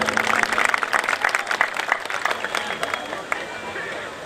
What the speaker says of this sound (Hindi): एक बार इनके लिए बधाई की तालियां बजानी चाहिए।